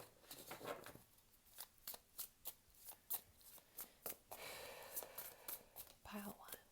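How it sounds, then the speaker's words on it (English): A hard-to-shuffle deck of tarot cards gets shuffled in a quick series of crisp riffling snaps and slaps, close and fairly quiet, with brief soft talk between. "this deck is hard to shuffle"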